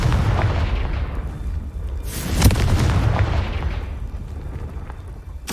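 Confringo blast spell from Hogwarts Legacy detonating with a deep booming burst, rumbling explosions rolling on under game ambience and flaring loudest partway through.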